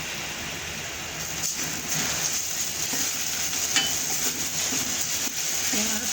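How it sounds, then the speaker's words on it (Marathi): Onion and a ground masala paste sautéing in a pan for a cauliflower curry, a continuous close sizzle with occasional utensil scrapes and clinks, no talking. "दोन्हीमध्ये मस्त परतला जातो तो मसाला पण आणि कांदा पण"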